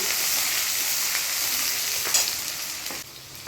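Onions hit hot oil in a pan and fry with a loud, bright sizzle, with a few stirring scrapes before the hiss eases slightly near the end; no talking.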